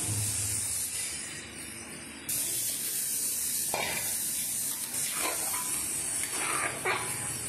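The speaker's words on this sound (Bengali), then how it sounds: "এবার জল দিয়ে দেবো, কষানো হয়ে গেছে। জল দিয়ে দিলাম।" Water poured into a hot pan of sautéed curry, producing a loud, dense hiss that swells partway through and keeps spraying steadily, with a few brief clinks toward the end.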